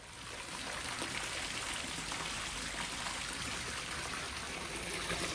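Water pours steadily into a newly built low-cost fish pond tank, a continuous broadband rush and trickle that stays even and fairly close for the whole stretch, with no talking.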